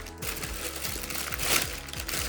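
A plastic bag, found by the roadside, crinkles and rustles as it is unpacked, with a quick series of crisp crackles and scrunches up close, no talk over it.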